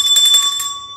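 A small bell rung once at an office workspace, giving a bright, close ring whose clear tones hang and fade within a second.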